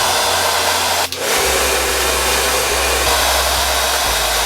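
A hair dryer blows steadily with a loud rushing whoosh, cutting out for a moment and then whirring straight back on.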